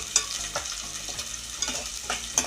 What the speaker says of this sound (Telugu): జీడిపప్పుని బ్రౌన్ కలర్ వచ్చేంత వరకు వేపుకోవాలి.